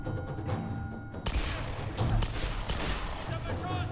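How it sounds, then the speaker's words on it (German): Magnum pistol shots in the Tomb Raider video game fire in a quick run of sharp, booming bursts, one after another, fairly loud against low game ambience. "die Magnum haut rein"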